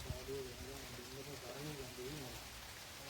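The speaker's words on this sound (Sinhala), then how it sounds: "කපාරටම වැස්සක් ආවා." Steady rain hisses in the background while a voice speaks over it, the downpour even and close.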